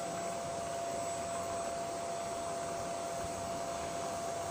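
An electric motor driving a conveyor belt for an extrusion setup runs at higher speed, giving a steady, loud whirring hum with a constant pitch and no breaks.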